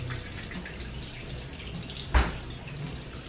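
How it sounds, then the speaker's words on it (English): Kitchen tap water running in a home while cooking a Mexican breakfast, a soft steady flow with one brief sharp knock partway through. "No, I'm just getting water."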